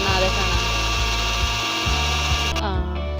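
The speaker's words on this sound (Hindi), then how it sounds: "अब इसको अच्छे से हम दोबारा से ग्राइंड कर लेंगे" A blender grinds aloe vera gel into a homemade winter moisturizer with a loud, continuous high motor whine close by, then cuts off abruptly just before the end.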